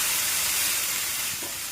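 Semolina batter spread over a hot pan for uttapam, giving a steady soft sizzle and hiss that stays close and even throughout with no talking.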